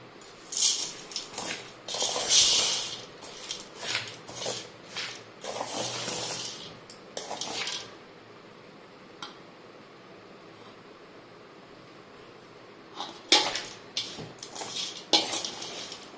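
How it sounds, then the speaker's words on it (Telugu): Pickle ingredients being stirred together with oil, giving scraping, clinking and wet mixing noises in bursts for about eight seconds, then a quiet stretch before a few more sharp stirring strokes. "ఇప్పుడు అంతా కలపాలి. అంతా కలిపేసి నూనె కలిపేసి"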